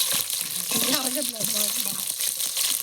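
Curry leaves and tomatoes fry and get stirred in a village-style fish curry, a constant bright sizzle with scraping stir strokes, while someone talks over the cooking.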